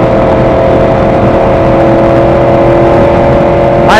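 A Yamaha R1 motorcycle's exhaust roars loud and steady at high revs, a sustained close engine drone with a brief rising whine at the end.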